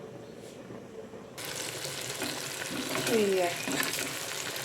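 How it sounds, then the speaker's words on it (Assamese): Dried pork pieces fry in a pan, a steady close sizzle that starts abruptly after a quiet moment and keeps crackling, with a single brief spoken word. "গাহৰি ভাজিছোঁ"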